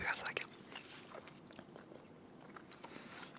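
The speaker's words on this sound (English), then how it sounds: "I personally actually really like gum chewing videos" Gum chewing close to a microphone, with wet, smacking bites in an irregular rhythm, soft and intimate, while someone quietly whispers or murmurs.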